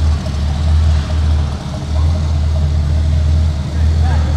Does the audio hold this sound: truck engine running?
yes